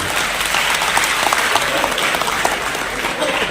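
A crowd applauds steadily at a National Voters' Day celebration at an Ayurvedic college in Udaipur, Rajasthan, a dense patter of many hands clapping at once, loud and close throughout.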